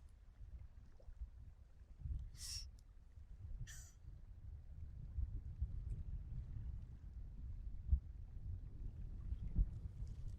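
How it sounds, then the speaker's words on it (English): Wind gusting over a canoe on open water, a faint low rumble and buffeting with light splashes and two brief sharp knocks, no voices. "I'm going to persevere against the wind"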